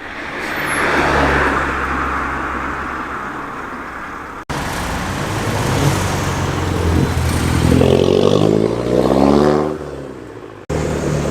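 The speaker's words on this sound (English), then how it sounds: "Ford Model A flyby" A vintage Ford Model A car drives past at an outdoor evening car meet, its engine rising from moderate to loud as it nears, then fading, with a short cut and background crowd noise.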